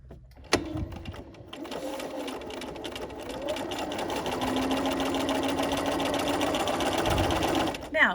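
A sewing machine stitches the open end of a fabric dog leash, a close, steady motor whir that builds after a sharp click of the presser foot, while a person speaks over it.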